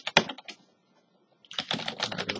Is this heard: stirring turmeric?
no